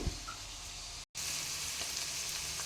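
Chopped tomatoes sizzle as they drop into a hot pan of cooking food on a low flame, a steady close frying hiss broken by one brief dropout.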